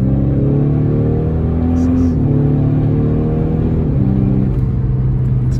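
An Audi with an 8-speed ZF torque converter automatic accelerates hard, heard from inside as a loud, steady engine drone whose pitch climbs and then drops at each quick gear shift, with people talking over it.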